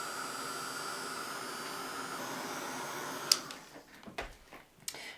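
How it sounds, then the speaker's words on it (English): A Ranger heat tool blows a steady, even whirring hum onto ink spread on a glass media mat, running continuously before cutting off and leaving a few faint clicks and handling sounds. "I'm going to use that Ranger Heat Tip tool to dry it off"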